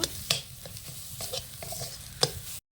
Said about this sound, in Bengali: আমি জিরে গুঁড়ো আর কিছুটা ধনে গুঁড়ো দিয়ে আবারও ভালোভাবে অল্প আঁচে কষে নেব